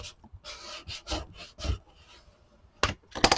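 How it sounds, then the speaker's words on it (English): Rubbing strokes of a tool burnishing glued paper down onto a card, a series of close, scratchy swipes in irregular bursts with short pauses between them, no talking. "I'm just going to go ahead and burnish that in."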